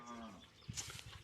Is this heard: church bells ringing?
no